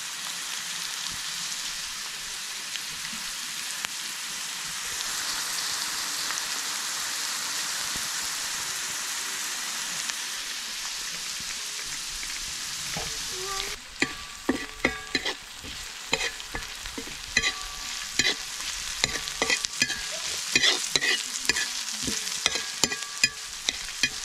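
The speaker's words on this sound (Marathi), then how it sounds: "आता कांदा टाकते. कांदा चांगला भाजून घेते." Onion frying in a hot pan gives a steady, dense sizzle for the first half, then stirring scrapes and sharp clicks break up the hiss as the pieces are moved around, with no talking.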